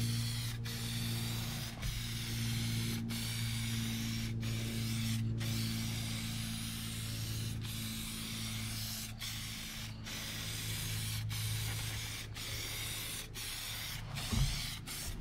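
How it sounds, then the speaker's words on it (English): A spray can lays clear coat onto a boat's lower unit in one long, steady hiss that runs almost unbroken, with faint periodic ticks and a low mechanical hum underneath. "let me go ahead and hit this with another coat of clear coat"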